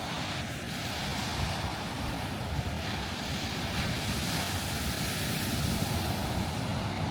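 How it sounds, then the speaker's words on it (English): Ocean surf rolls onto a beach in Lombok as a dense, continuous roar mixed with heavy wind buffeting the microphone, loud and unbroken with no talking. "Those waves look insane."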